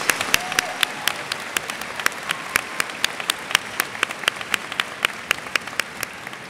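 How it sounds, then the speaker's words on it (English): Sustained applause fills a graduation ceremony as a crowd claps steadily for the graduating class, with sharp individual claps standing out above a dense, even roar that holds for the whole stretch. "Please join me in giving a round of applause to the members of our graduating class"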